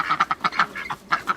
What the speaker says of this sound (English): And that mallard is beautiful.